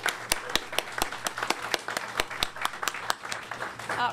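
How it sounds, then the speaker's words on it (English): A small indoor audience claps for volunteer trustees at a historical society meeting, with sparse, uneven hand claps scattered through the short burst and no continuous roar. "I would like the trustees who are here tonight to stand so we can give you all a round of applause for the work that you do."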